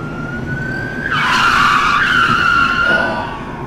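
A car braking hard to a stop as it gets pulled over, a loud tire skid that swells, holds for about two seconds and then fades.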